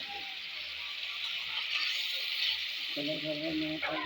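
Spices and tomato frying in a pan for a katla fish curry with potatoes, a close steady sizzle and hiss, with a voice briefly speaking over it toward the end.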